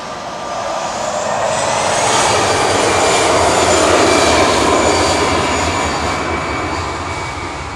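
A Lufthansa City Airbus A319 departing Manchester Airport for Munich gives a loud, sustained jet roar that builds, holds near its peak, then tapers off, with no voices.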